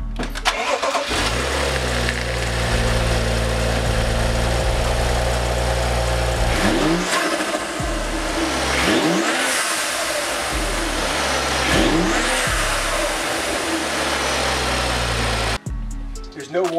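A BMW 535i F10 with the N55 turbo engine and a Turbosmart blow-off valve cranks and fires, then settles into a loud, steady idle with a few short revs, close to the car, with a brief cut near the end.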